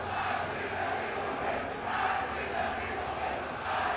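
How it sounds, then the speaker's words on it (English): A student section crowd at a high school boys basketball game between Evanston and Jackson, a sustained roar of many voices that swells and dips in waves, filling the gym throughout. "Listen to that crowd."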